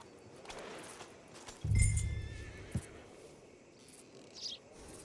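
A horse whinnies once in a short, fairly close burst with a hoof clop, set against quiet outdoor ambience with faint bird chirps, in a Wild West roleplay video game.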